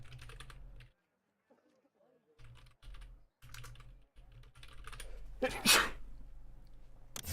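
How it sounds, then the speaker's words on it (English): One sharp, loud sneeze bursts out amid intermittent keyboard typing and clicking, close to the microphone. "My apologies for the sneeze."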